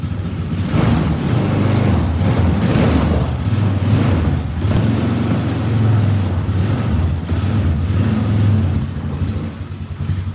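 A side-by-side utility vehicle's engine runs steadily outdoors in cold weather, a loud, continuous low rumble with slight surges and no pauses.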